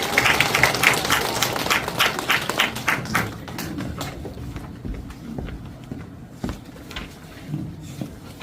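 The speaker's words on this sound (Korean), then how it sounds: "큰 박수로 환영해 주시기 바랍니다." Clapping from an audience at a 2023 policy forum on aging, dense at first and then thinning to a few scattered claps before fading out, with no voices.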